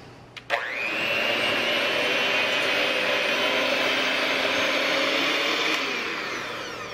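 An electric mixer whirs steadily through thick cake batter with sour cream folded in, starting with a click and a sharp catch, then holding a loud even hum for about six seconds before winding down.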